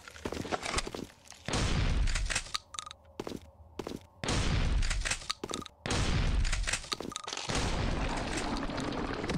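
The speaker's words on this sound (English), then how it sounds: "the shotgun seems to work, so that's good" Shotgun blasts in the Heaven Dust 2 video game, loud booming shots in several bursts separated by short quiet gaps, each blast sustained and heavy.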